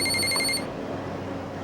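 A mobile phone rings in a home, a bright electronic ring that sounds for about half a second and then stops, leaving a quiet room.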